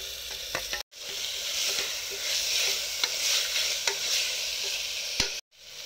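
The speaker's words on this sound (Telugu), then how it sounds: "ఉల్లిపాయ ముక్కలు అలా బ్రౌన్ కలర్ వచ్చిన తర్వాత అల్లం వెల్లుల్లి పేస్ట్ వేసుకోవాలి." Sliced onions browned with ginger-garlic paste sizzle steadily in a pan while a spoon scrapes and stirs in irregular knocks, the frying broken by two brief silences, with no one talking.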